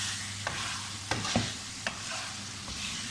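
Finely chopped tomatoes sizzle in hot oil in a pan of Hyderabadi chicken karahi, a steady close frying hiss broken by a few sharp scrapes and clacks of a spoon stirring.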